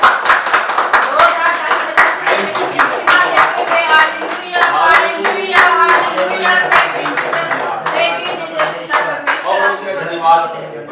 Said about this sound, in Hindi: ताली बजा के परमेश्वर का स्वागत करते हैं